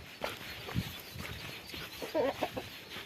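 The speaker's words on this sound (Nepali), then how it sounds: "ए बाख्रा कुखुरा सब यता रहेछ" Chickens in a village livestock shed that also holds goats, a few short, close clucks and squawks scattered over quiet, with faint scuffling in between.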